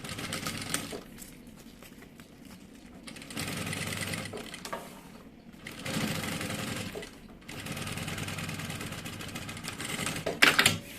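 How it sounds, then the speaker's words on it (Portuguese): A sewing machine runs a topstitch seam on fabric for a double baby-bottle holder, in a steady mechanical whir in several bursts separated by brief pauses, close and continuous, ending with a few sharp clicks. "vai passar uma costura de pesponto bem bonita"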